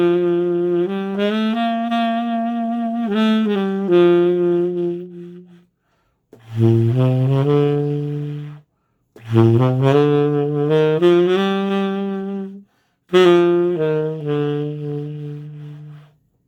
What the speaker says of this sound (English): Listen to how I vary where I use the vibrato in a melodic phrase